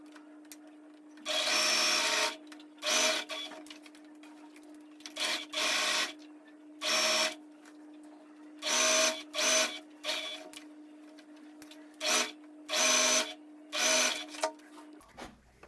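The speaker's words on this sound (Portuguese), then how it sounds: "Vai costurar toda essa parte do decote e vai fechar aqui o outro ombro." A sewing machine stitching the neckline and shoulder of a blouse runs in short and longer bursts of rapid mechanical whirring, close by, separated by brief pauses over a low steady hum.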